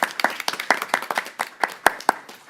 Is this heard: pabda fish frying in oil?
no